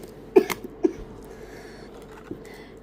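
Two sharp coughs come close together, then a lone cough follows after a pause, against a quiet background hum.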